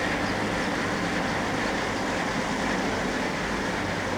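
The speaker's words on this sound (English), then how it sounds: "There's a local little train." A steady, distant rumble of a small local train rolling past near Matlock Bath, a continuous low drone with faint rail noise and no voices.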